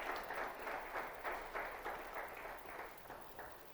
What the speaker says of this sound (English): can we give one more round of applause to the team?